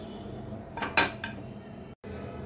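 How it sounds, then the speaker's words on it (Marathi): A spoon stirs black grape sorbet mixture thinned with cold water in a pan, giving a brief cluster of metallic clinks and scrapes near the middle against a quiet room hum, with no talk. "हे व्यवस्थित आपण मिश्रण ढवळून घेऊया"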